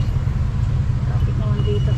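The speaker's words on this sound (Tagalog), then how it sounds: "Traffic naman dito." Road traffic outside a home in the evening makes a steady low rumble of passing cars and heavier vehicles, continuous and fairly near, with a faint voice briefly audible toward the end.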